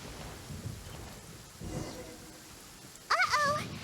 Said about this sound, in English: Uh-oh! Lightning storm!